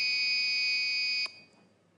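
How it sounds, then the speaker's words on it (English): A school quiz contestant's buzzer sounds as a loud, steady electronic tone that ends abruptly with a click after about a second, leaving quiet room noise. "That's the sound of your bell."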